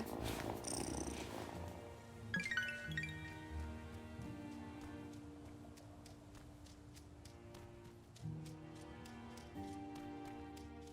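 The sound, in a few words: cat purring in video game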